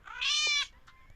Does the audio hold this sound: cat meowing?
yes